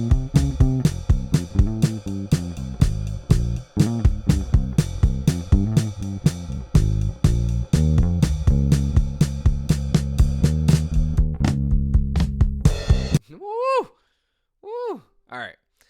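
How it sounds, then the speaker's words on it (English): Bass line and drums play together in a produced pop track, with steady punchy beats and a thick low groove for about thirteen seconds, then cutting off into a few short rising vocal exclamations. "So bass and drums together sounds like this."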